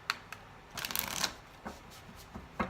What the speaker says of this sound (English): I do have to shuffle the cards